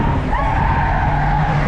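A Volvo 740 drifts on a track with a loud, close engine drone and tires squealing and skidding in one continuous burst.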